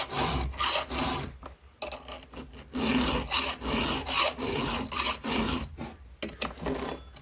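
A hand file touches up a chainsaw chain, giving a series of close, loud rasping strokes in a steady back-and-forth rhythm, with brief pauses between passes.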